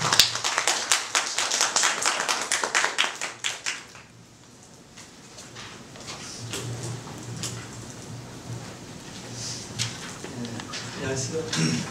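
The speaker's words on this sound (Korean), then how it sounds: "큰 박수로 맞이하겠습니다." Audience clapping to welcome a professor at an academic conference: a few seconds of sharp, distinct claps that stop abruptly around four seconds, followed by quiet room noise and faint talk.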